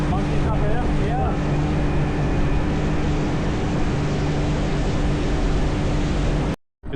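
A steady, loud boat engine drones continuously over rushing water noise in Brunei, then cuts out abruptly near the end.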